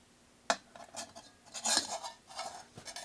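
A lightweight folding metal pot stand for an ultralight alcohol stove is folded and set inside a pot, giving a short series of close metallic clinks, rattles and taps, with no speech.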